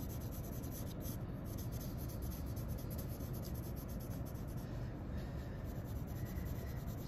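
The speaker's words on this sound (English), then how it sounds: "we're going to kind of start shading this direction with, so that all of our pencil lines will kind of help us get the idea that this vase is rounded" Pencil shading on paper across a drawing of a rounded vase makes a continuous soft, dry scratching and rubbing, steady and close-up with no pauses and no voices.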